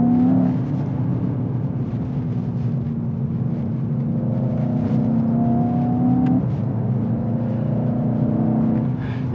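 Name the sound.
2021 Mercedes E63S Estate accelerating at full throttle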